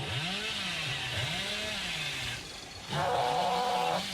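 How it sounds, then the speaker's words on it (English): Hillbilly's chainsaw in Dead by Daylight snarls loudly and continuously, its engine pitch rising and falling in repeated revving waves, dipping briefly before roaring back even harsher. "my chainsaw is well and truly overheated"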